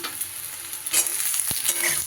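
Eggplant pieces frying with potato and onion in a pan of oil, a close, steady sizzle with quick stirring scrapes and one sharp clink of the utensil on the pan.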